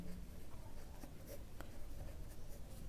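Chalk or marker scratching across a board during a Class 10 trigonometry lesson, a soft continuous scribbling texture with a few brief taps, close and fairly faint against room noise.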